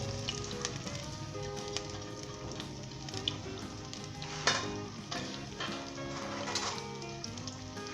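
Chopped onions fry in hot vegetable oil over high flame with a steady, dense sizzle. Occasional stirring clicks and scrapes break through, and no one speaks.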